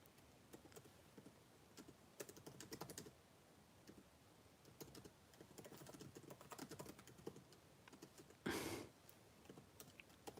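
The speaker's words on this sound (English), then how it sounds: "I am just going to type that in" Quiet, close typing on a computer keyboard comes in irregular clusters of light key clicks with short pauses and one louder clack near the end.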